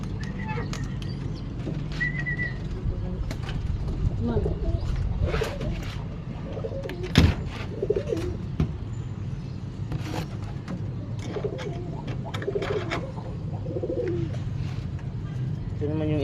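Young pigeons raised as squabs coo softly and intermittently in a nest area, their low murmuring calls mixed with scattered sharp knocks and handling noises while someone talks over them.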